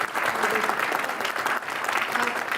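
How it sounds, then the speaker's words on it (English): An audience claps for the speaker at an entrepreneurship talk, a dense and steady round of applause filling the full stretch at moderate loudness, with faint crowd murmur mixed in. "Big round of applause for the speaker."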